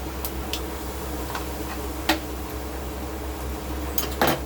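Mustard and cumin seeds crackling in hot oil for Gujarati dhokli nu shak, sparse sharp pops and ticks scattered over a low steady hum, with a small cluster of pops near the end and no talking.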